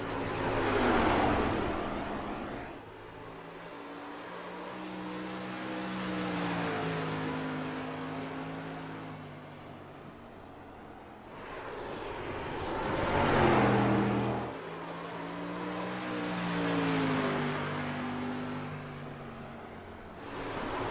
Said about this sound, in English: as he makes his way around the racetrack